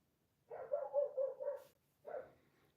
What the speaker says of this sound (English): That was not a puppy bark. That was a big dog bark.